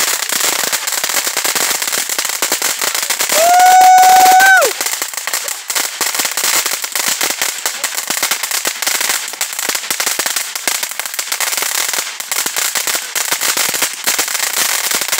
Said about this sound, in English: There's fireworks in the background